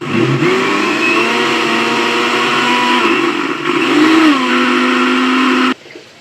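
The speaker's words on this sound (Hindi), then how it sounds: "और इसे अब हम अच्छे तरीके से ब्लेंड करके इसका बहुत ही फाइन पेस्ट बनाएंगे।" An electric blender grinds soaked moong dal with a little water into a fine paste, a loud, steady motor whir that shifts pitch slightly as the batter churns, then cuts off abruptly near the end.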